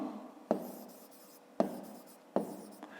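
A maths answer is written down by hand in a school exercise, with three distinct pen or chalk strokes tapping and scratching at irregular intervals, close and quiet.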